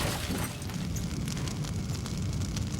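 Loud, sustained rumbling explosion in a cutscene from the PS1 game MediEvil 2, a dense roaring blast that fills the whole stretch without pause and without voices.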